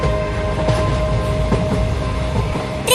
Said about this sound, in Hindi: ट्रेन चलने लगी मम्मी,